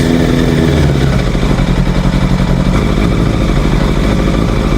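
A Suzuki Bandit motorcycle engine idles close by at about 600 rpm, a loud, steady, throbbing putter that holds an even rhythm throughout.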